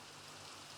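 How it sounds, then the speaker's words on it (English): Steady rain falls in the blocky world of Minecraft, a soft, even hiss of drops with no gaps or breaks, faint and continuous throughout. "This rain's kind of inconvenient"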